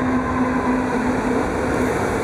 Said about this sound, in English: And here comes the subway.